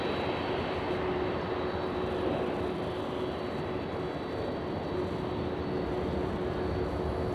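Steady, loud roar of an airliner's jet engines at LAX airport, a continuous broadband rumble with a faint whine holding level throughout.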